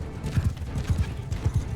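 Rhythmic hoofbeats of a horse galloping in the Mount & Blade II Bannerlord video game, steady repeating clip-clop pairs, moderately loud and close, with no talking.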